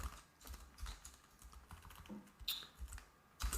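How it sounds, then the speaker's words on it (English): Rapid, irregular clicks of computer keyboard typing during low-level OS file system coding, close and fairly quiet, with no voices. "Why am I typing the same thing twice?"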